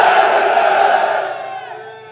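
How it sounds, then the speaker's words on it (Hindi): A large crowd roars the slogan Naara-e-Takbeer at a political rally, a single loud sustained collective shout that slowly fades out over about two seconds. "शहर में सिर्फ ये नारा गूंजे, ऐसा जोरदार नारा लगाना"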